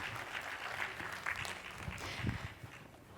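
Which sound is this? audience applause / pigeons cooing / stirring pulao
audience applause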